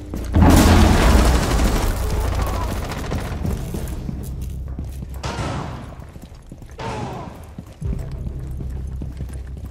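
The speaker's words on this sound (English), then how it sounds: "Tossing a frag." A frag grenade goes off in Rainbow Six Siege with a loud, booming blast near the start, followed by rumbling debris and a couple of sharper secondary bursts later in the round's background noise.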